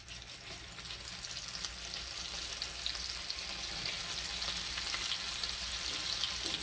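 Boneless fish fillet pieces fry in hot oil, giving a steady, moderately loud sizzle with a continuous bubbling hiss and no talk.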